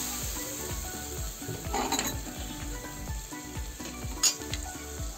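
Spices sizzle and fry in a pan as a little water goes in for a vegetarian Bengali elephant-foot yam kofta curry, a steady hiss with a brief surge and scattered clinks of a stirring spoon.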